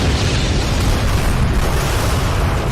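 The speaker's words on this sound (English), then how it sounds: "Wow, that explosion looked cool" Loud, sustained roaring blast from an explosion in the video game Resident Evil 4, a dense wall of rumbling noise that fills the whole clip without letting up, with no voices over it.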